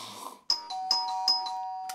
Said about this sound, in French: 3 coups de sonnette pour prévenir